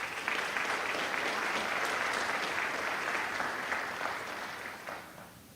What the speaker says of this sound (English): Let's give Sue a round of applause.